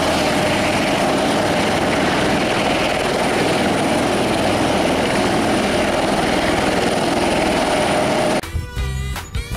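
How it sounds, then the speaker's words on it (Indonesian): A toy helicopter's steady, loud engine and rotor roar fills the clip, continuous and close, then cuts off abruptly near the end into brief clattering noise. "Oke, helikopter bersiap untuk terbang."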